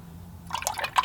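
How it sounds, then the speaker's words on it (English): A paintbrush swishes in a water cup while being rinsed, with a quiet pause followed by short splashing, dripping sounds, close and faint. "Rinse the brush off, dry off the brush a little bit on a sponge"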